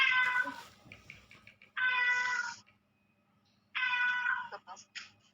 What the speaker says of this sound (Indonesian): Kita tolong kucing sebentar.